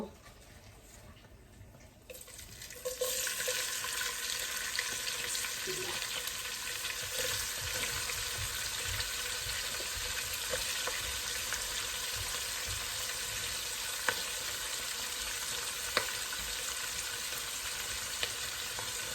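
Sliced onions for goat curry hit hot oil in a pan after a quiet start, bursting into a loud, steady sizzle that holds for the rest, with a few sharper crackles and occasional stirring scrapes.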